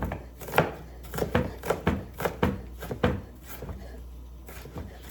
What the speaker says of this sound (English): I'm chopping up my onion fine for my rice.